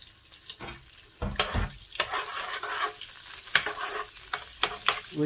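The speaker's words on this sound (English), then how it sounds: "So when it's sizzling, then you put the chicken in to fry." Oil and melting butter sizzle in a frying pan before chicken goes in, a close crackling hiss broken by sharp clinks and scraping stirs of a utensil against the pan.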